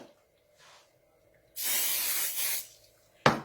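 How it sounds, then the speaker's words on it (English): Cooking spray hisses into the bottom of an oven-safe pot in one sustained burst of about a second, followed by a short sharp spritz, with quiet pauses around them. "I'm going to start out by spraying a little bit of spray in the bottom of the pot."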